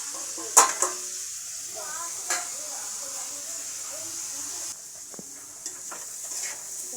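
Ground turmeric, coriander and chili powder frying in a pan for a potato curry, giving a soft continuous sizzle with a few sharp clinks of a stirring spoon.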